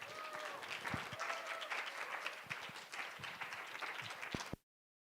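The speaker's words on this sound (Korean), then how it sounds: "나오실 때에 큰 박수로 맞이하도록 하겠습니다." A church youth service congregation applauds steadily to welcome a pastor to the front, with dense, continuous clapping and a few louder sharp claps standing out near the end before the sound stops abruptly.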